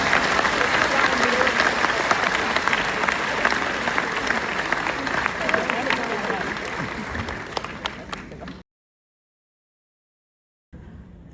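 Sustained applause from an audience at a talk on the Immaculate Conception in Fatima, loud and dense for about eight seconds before stopping abruptly into silence, with a faint return at the end.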